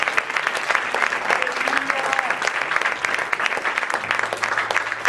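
Loud, continuous clapping from a church congregation during a Spanish-language worship service, dense and even throughout, with shouts and voices mixed into the applause.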